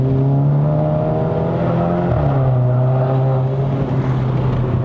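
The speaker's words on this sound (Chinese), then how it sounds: "这个换挡" Volkswagen Polo GTI MK5 engine revving hard through a gear shift on a mountain road in Malaysia, a loud steady drone that dips briefly at the shift, then climbs again, heard close from inside the cabin.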